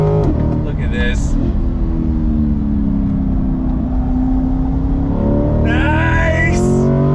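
Lingenfelter-tuned C8 Corvette pulling away hard from a dead stop, engine roar rising and sweeping up through the revs close by, loud and continuous, with excited voices over it.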